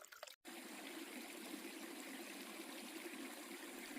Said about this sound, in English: Look at how lovely that creek is.